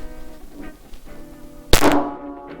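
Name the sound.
9mm Hornady Critical Defense shots from generic Glock pistol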